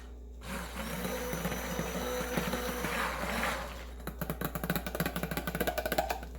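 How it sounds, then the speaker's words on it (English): An electric mixer whirs in soap batter, first a soft steady motor hum, then rapid rattling pulses as it works the mixture close by, with no talk. "I'm gonna pull my mixer over here. We're just gonna mix this really, really gently."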